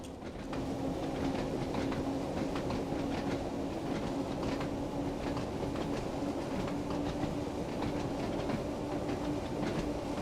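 A train in the video game Train Sim World 2, on the Isle of Wight route climbing an uphill gradient, rumbles steadily with a constant mechanical drone and faint rhythmic clicks, continuous and fairly loud, no talking.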